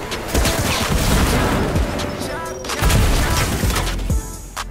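Rapid bursts of gunfire from the video game Fortnite, loud booming shots and a fusillade packed together with crashing impacts, with voices talking over the action.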